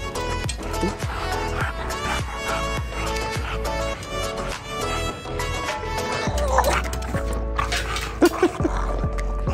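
A pet dog barks angrily in rapid, repeated bursts, loud and close, with yips and growly whimpers mixed in, no one speaking over it.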